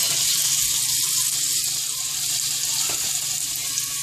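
A skirt steak pinwheel sizzles in a pan over lowered heat, giving a loud, steady, close hiss with faint crackle and no pauses.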